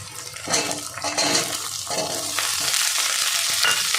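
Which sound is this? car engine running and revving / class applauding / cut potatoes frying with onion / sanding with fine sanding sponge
cut potatoes frying with onion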